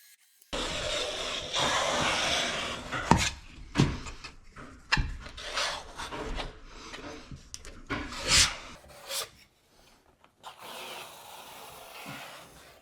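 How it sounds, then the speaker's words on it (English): Corner trowel smoothing drywall compound along the corners of waterproof wall boards, a steady scraping rub broken into uneven strokes and scrapes, with short pauses and no talking. "this corner trowel really helps out to get a nice smooth edge on the corner"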